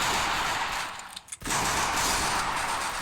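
Continuous loud gunfire in a video game, a dense unbroken rattle of shots that drops out briefly for a moment before resuming at full intensity.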